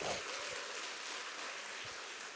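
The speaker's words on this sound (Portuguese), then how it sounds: "dá uma salva de palmas para Jesus" Church congregation at a Portuguese-language worship service applauding for Jesus, a steady dense wash of many hands clapping at once, fairly faint and continuous with no voices on top.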